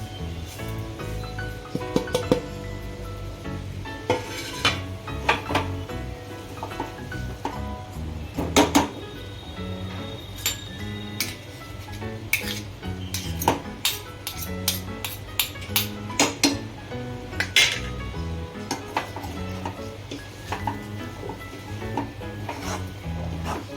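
Radish greens and flour being stirred in a pan for a Gujarati mooli bhaji shaak, steady rubbing and scraping strokes with occasional sharper knocks of the spoon against the metal, close and continuous with no talk.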